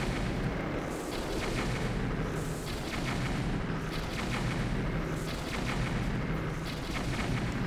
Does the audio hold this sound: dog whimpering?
no